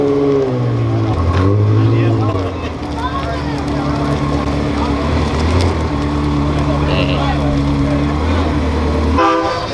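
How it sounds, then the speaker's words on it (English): A Ferrari sports car pulls away at a Caffeine and Octane car meet, its loud engine drone rising and shifting pitch, with a horn-like tone mixed in and talk over it. "You got that Ferrari, which is leaving."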